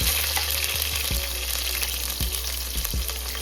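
Sliced onion drops into hot coconut oil with popped mustard seeds and fenugreek, and a dense, crackling fry runs throughout. A spoon stirs and scrapes the pan now and then in a few soft knocks, and no one speaks.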